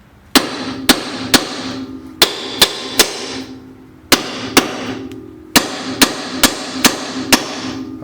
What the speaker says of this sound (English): you're gonna need to hammer and hit it right here, here, here, and it'll come right out